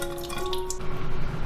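Water runs steadily from a kitchen tap while a bitter gourd is rinsed beneath it, a close, continuous splashing stream with a constant hiss and light gurgle throughout.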